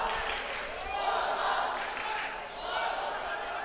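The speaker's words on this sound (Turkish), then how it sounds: "Orhan Erden için tezahüratlar var." Boxing crowd in a Mersin sports hall chanting and cheering for Orhan Erden between rounds, a broad murmuring roar swelling and easing under a commentator's talk.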